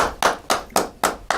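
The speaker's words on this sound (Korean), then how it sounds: "큰 박수 한번 주십시오." A guest is welcomed onto a Korean talk segment with a quick, steady run of about six sharp claps in even rhythm, close and crisp, with no talking over them.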